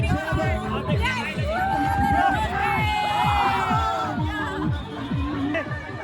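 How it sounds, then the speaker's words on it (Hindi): A dense crowd mills around a Dubai-themed carnival fair in Siwan, with loud, continuous chatter, shouts, whoops and cheers, and a voice talking over the din throughout. "देखिए कितना भीड़ है इसमें"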